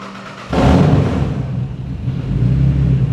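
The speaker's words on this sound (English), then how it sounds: "she's gonna start the car" A Honda NSX widebody with no tailpipe fires up in a showroom build: a sudden loud catch half a second in, then a deep, unmuffled idle rumbling steadily and close.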